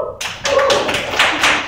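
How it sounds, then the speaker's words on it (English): Comedy club audience clapping, a short scattered round of applause from a small crowd, fairly close and with no talking over it. "let's hear it by applause if you've gone to a gym."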